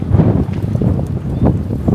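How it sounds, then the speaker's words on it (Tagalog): Wind blowing through the trees of Sherwood Forest near Nottingham, England, a steady rumbling rush with gusty swells and heavy buffeting on the microphone, close and fairly loud. "Ang gandang pakinggan ng hangin, no?"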